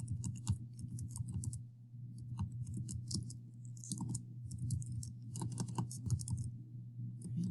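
Typing on a computer keyboard while entering text into a poster document, with a steady run of quick clicking keystrokes over a constant low hum, close and moderately loud, no voices.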